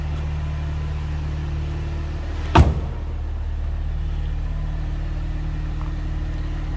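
A 2004 Mini Cooper S idles steadily with a low, even engine hum, broken once by a sharp thud like a door shutting nearby before the idle carries on.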